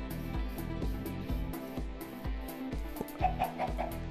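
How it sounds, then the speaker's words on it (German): Chickens clucking in the game Minecraft, short repeated clucks in a steady rhythm over a busy, tonal game backdrop with music-like layers, with a few brighter calls near the end. "Da waren doch auch noch Hühner."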